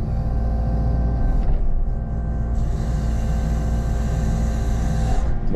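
A heavy machine traverses sideways across a pond slope during fill work at a rural hardwood property, its engine rumbling loud and steady at close range with shifting rattles and a brief rising whine.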